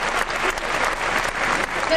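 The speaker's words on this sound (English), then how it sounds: "Give Lee a round of applause." Audience applause at the Animal Actor Stage show at Universal Studios Florida in 1994; a dense, continuous burst of clapping from a crowd, close and fairly loud.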